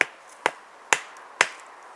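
Four sharp metal-on-wood strikes from a Groundhog Trapper rebar hammer driving a stake, evenly spaced about half a second apart, close and alone.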